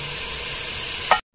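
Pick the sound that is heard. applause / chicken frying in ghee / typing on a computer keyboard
chicken frying in ghee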